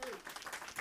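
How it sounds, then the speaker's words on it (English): Audience applause for presenter Jabali Ade after his talk, a short dense burst of many hands clapping that blurs into a steady wash. "so please, let's give a round of applause."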